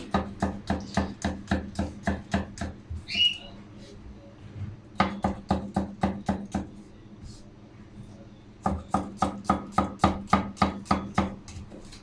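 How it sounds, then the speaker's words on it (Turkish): A knife chops garlic rapidly on a cutting board, close by, in three bursts of even strokes separated by short pauses. "Şimdi sarımsaklarımızı doğrayalım arkadaşlar."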